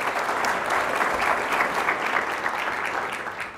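A lecture audience at a university event bursts into loud, dense applause, a continuous wash of clapping that holds steady and tapers slightly at the end.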